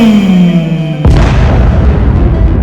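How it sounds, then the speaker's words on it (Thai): A large energy ball detonates in an animated film: a sustained rising tone cuts off into a sudden loud boom whose broad rumble rolls on and slowly fades, with no voices. "จนได้ที่แล้วมันก็ถูกยิ งออกไป พุ่งเป็นวิถีโค้งไปยังกลุ่ม HLCDS 108 และ 109 ที่กัสและออโต้ล่อไว้ บึ ้ม"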